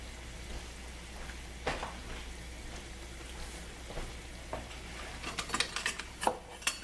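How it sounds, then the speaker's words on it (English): Butter and orange peel sauté in a pan for a roast duck sauce, a steady soft sizzle with scattered clinks and scrapes of a utensil against the pan, growing busier toward the end. "We're going to saute this quickly"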